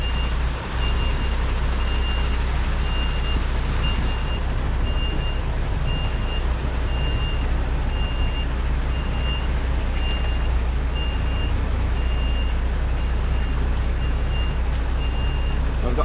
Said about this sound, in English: So I need to do like a jackknife reverse to get out.